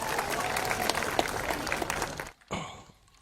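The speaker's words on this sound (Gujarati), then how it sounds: "તો એક વખત આ બધા શિક્ષકો કે જેણે ખૂબ મહેનત કરી છે એને પણ તાળીઓથી વધાવી લો." Audience at a school annual function applauding teachers with dense, sustained clapping that cuts off abruptly near the end, followed by a brief burst of other sound.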